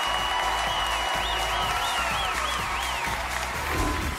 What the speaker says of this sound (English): Ladies and gentlemen, a round of applause for Prince Poppycock.